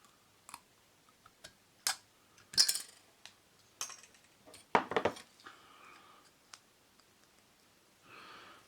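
A thin metal blank is cut for a small homemade EDC knife, giving a sparse series of sharp snips and clicks with brief scraping between them, close by and fairly quiet.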